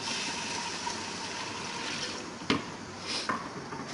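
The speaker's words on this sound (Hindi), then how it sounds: "अब इसके अंदर हम जो पानी हमने निकाला था स्टेन करके वो हम ऐड" Strained water is poured into a pan of roasted black chickpeas, a steady close liquid rush and sizzle with a couple of sharper splashes toward the end, no voices.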